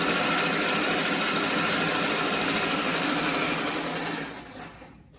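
A treadle sewing machine, foot-pedaled rather than motorized, runs fast and steady while stitching a patchwork bathroom set, a dense continuous mechanical whir with rapid needle clatter that stops near the end.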